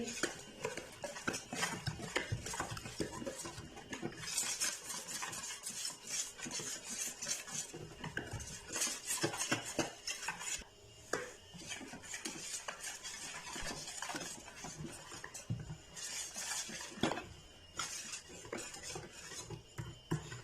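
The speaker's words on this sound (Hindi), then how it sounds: "तो तमाम चीज़ें हमने डाल ली हैं दही के अंदर। अब इनको अच्छी तरह मिक्स करेंगे।" A spoon stirring spices into yogurt in a bowl, making a constant run of close, brisk scraping and clinking strokes that go on without pause.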